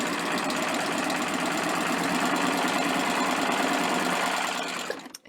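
A serger sewing machine runs steadily as it stitches and trims a napkin edge, a fast, even mechanical whir lasting about five seconds, then slowing to a stop with a few clicks.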